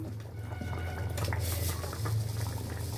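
Ghee poured into a pan of frying kofta (potato and pointed gourd) brings a steady bubbling, sizzling hiss with small crackles and pops, close and continuous throughout.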